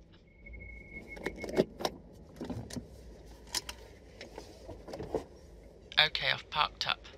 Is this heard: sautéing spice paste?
no